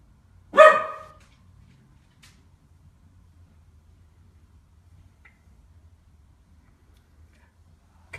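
One sharp bark from a household dog greeting someone arriving home, loud and close, followed by several seconds of near silence.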